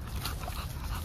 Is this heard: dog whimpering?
yes